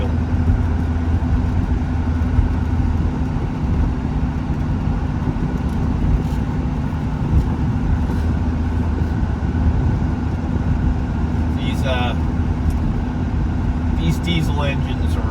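A 1975 Mercedes-Benz 300D diesel car running as it drives, a steady low engine drone and road rumble throughout, with brief higher chirps near the end; speech is likely present over it.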